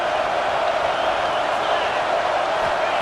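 A stadium crowd at a football game roars in a steady, dense wash of noise with no distinct peaks, loud and continuous throughout.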